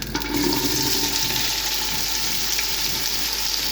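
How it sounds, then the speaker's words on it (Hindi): Pieces of taro root (arbi) dropped into hot cooking oil in a pan, a loud burst at the start settling into a steady, dense close-up sizzle. "ऑयल गर्म हो गया, अब हम इसमें ऐड कर देंगे अरबी।"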